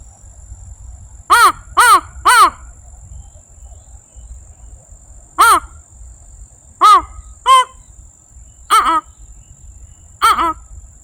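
A person imitates a fish crow's call, giving short nasal caws, mostly in pairs and threes, with pauses between them and a faint insect-like hum underneath.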